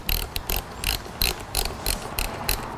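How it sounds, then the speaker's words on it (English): A hand ratchet snugs down the mounting bolts of an FMF Factory slip-on exhaust on a motorcycle, giving a close, loud run of rapid clicking pawl bursts in a steady back-and-forth rhythm, with no talking. "before you firm it up with the ratchet"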